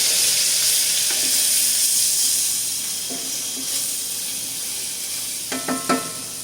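Greens wilt in hot oil in a pan with a loud, steady close-up sizzle and hiss, broken by a few light stirring knocks near the end.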